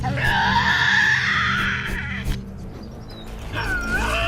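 Loud, piercing screams from a Tasmanian devil in a wild island forest. A long harsh screech is followed by a pause and then a second shorter cry.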